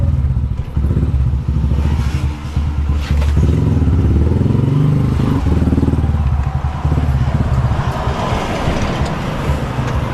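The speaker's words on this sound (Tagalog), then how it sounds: "Mainit na yung makina ni Mia" A motorcycle engine idles and revs steadily close by, a constant low rumble with some clatter, and a brief voice in the background.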